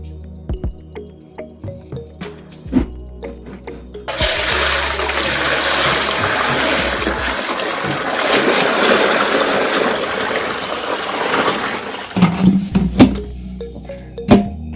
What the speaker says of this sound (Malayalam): അപ്പോൾ നമുക്ക് ഇത് വെള്ളം ഒഴിച്ചു മാറ്റാം.